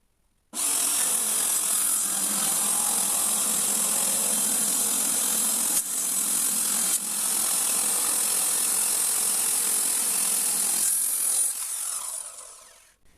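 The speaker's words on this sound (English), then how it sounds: "So it's cut straight, it's cut clean." Power saw cutting through an old wooden door, one loud continuous cut running for about eleven seconds with a couple of brief catches before it winds down and stops.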